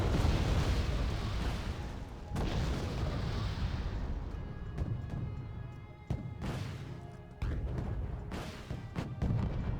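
A Mi-24P helicopter gunship in Wargame Red Dragon fires a barrage: dense, rumbling explosions broken by several sharp, heavy blasts, fairly distant and with no talk.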